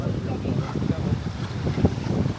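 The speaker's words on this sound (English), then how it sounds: "It's a very windy afternoon, isn't it?" Strong outdoor wind on a windy afternoon gusts in a steady rumbling rush, buffeting the microphone throughout with low blustery thumps.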